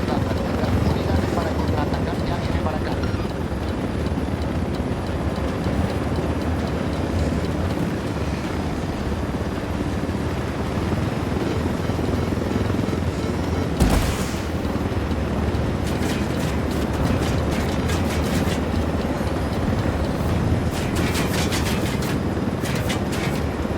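Helicopters under attack in a video game, a constant loud rotor roar with a sharp burst of impact noise midway and crackling blasts later, with a voice talking over it.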